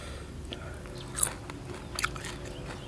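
Crispy roasted field rat skin is bitten into, giving a couple of brief close crunches over a quiet background.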